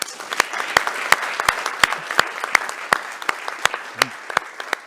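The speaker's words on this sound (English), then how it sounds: "This is your applause, Ms. Bury." Sparse, distinct handclaps from a small audience welcoming a speaker at a farm-to-fork sustainability discussion, individual claps ringing out clearly and fairly loud in an irregular rhythm for several seconds.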